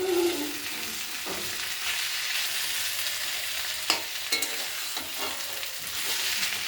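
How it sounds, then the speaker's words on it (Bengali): Taro stolons stir-frying with dried fish, onion and garlic in a hot pan: a steady, close sizzle with scattered sharp spatula scrapes and clicks, no talking. "কচুরলতিটা ভালো করে ভাজা ভাজা করে"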